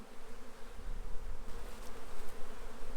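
Honeybees buzz loudly and continuously around an open backyard hive during a spring inspection, a dense close droning swarm hum that rises and falls slightly without pause.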